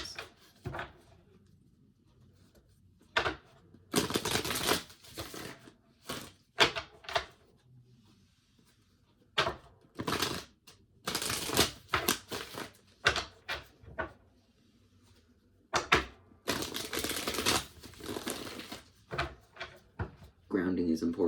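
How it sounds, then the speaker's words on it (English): Tarot cards shuffled by hand, with repeated bursts of riffling and flapping card noise, close and sharp, separated by pauses and mixed with soft handling sounds and brief talk. "I'm just gonna shuffle"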